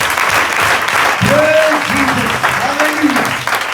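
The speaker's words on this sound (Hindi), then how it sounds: "आइए जोरदार तालियां खुदा के नाम के लिए" A church congregation claps loudly and continuously at a Palm Sunday prayer service, dense applause filling the room while a voice rises briefly over it.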